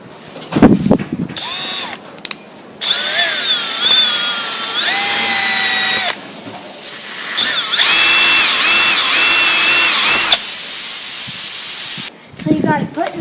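A power tool reams out a puncture hole in a flat tire, whining at rising and falling pitch in long bursts with short pauses, loud and close, with brief speech before and after.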